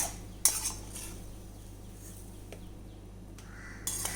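A spoon works cooked mango pieces through a spicy masala on a plate, with a few sharp clinks of metal against the dish separated by quiet stretches.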